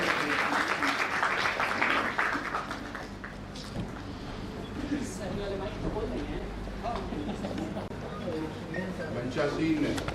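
Audience at a college Buddha Jayanti event in Patna claps to welcome a speaker, moderately loud applause that is strongest at first, then continues thinner and steadier with room noise and faint voices.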